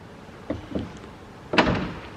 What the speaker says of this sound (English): Close the door up before I get thrown out.